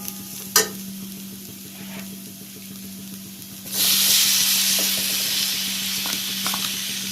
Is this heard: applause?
no